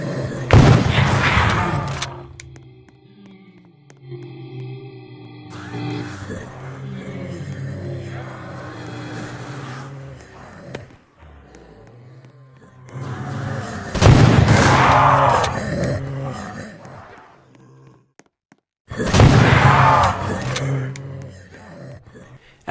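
RPG-7 rocket launcher in the zombie shooter Project Lazarus fires in three heavy booming blasts spaced several seconds apart, each loud and roaring before it fades, with quieter game noise in the gaps and no talking.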